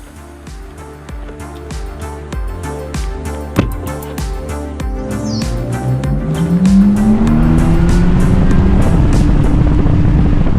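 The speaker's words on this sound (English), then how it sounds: "we've talked about everything that we love on the McLaren Artura Spider, but let's take it for a drive." A 2025 McLaren Artura Spider sports car accelerates hard, its engine note climbing through rising revs and gear changes into a loud, sustained roar that fills the final seconds.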